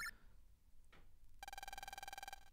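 Phone ringing in the game Mega Man Battle Network: a brief chime, then a steady electronic ring tone with a rapid trill, loud and clear with no talking.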